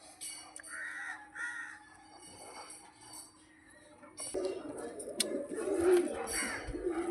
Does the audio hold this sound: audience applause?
no